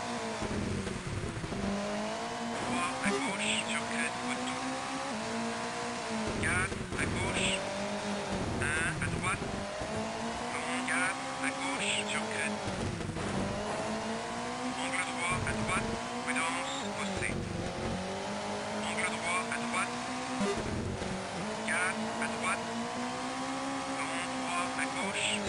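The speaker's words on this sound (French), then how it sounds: "La voiture est assez agile, ça fait plaisir." Rally car engine from the PC game Colin McRae Rally on a United Kingdom stage, revving continuously with repeated gear shifts and rising pitch sweeps, loud and close throughout, with a voice commenting over it.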